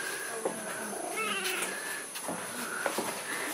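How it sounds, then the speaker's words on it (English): A kitten meows repeatedly at a temple at Angkor Wat in Cambodia, its short, high, close cries coming in several separate bursts over a steady outdoor background. "Just a random kitten at the temple."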